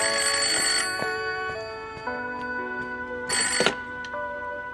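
A telephone rings in a home in a period drama, with a burst of ringing at the start, lingering tones in between and a second short burst a few seconds later, at moderate volume.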